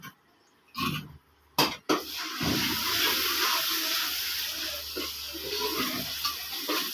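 Fresh water poured while washing household items in a village, starting with a few separate splashes and clatters, then a steady close gush and trickle of running water with occasional knocks underneath.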